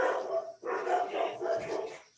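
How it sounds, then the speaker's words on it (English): Several dogs bark excitedly from behind a shut door in another room during a virtual meeting, a run of muffled, rapid barks and yips in three bursts, fairly loud and continuous with no talk over them. "Mine, and they're in the other room, and the door is shut, but they get excited when they hear noises."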